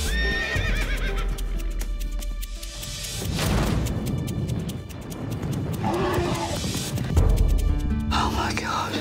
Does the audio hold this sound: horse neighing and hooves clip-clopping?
yes